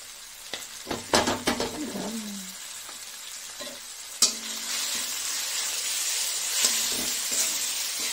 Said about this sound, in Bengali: পেঁয়াজ আর কাঁচা লঙ্কাটা অনেকটাই ভাজা হয়ে গেছে। এই যে রসুনের পেস্ট দিয়ে দিলাম